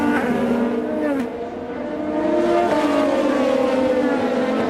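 IndyCar race cars on the Indianapolis road course at the 2015 Grand Prix, a loud continuous high-revving engine whine with shifting pitch as cars accelerate, brake and pass.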